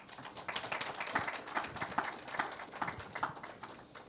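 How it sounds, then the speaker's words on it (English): Faint, sparse clapping from a small seminar audience for the panelists, individual claps audible in a loose uneven rhythm at low volume. "I think our panelists deserve a round of applause."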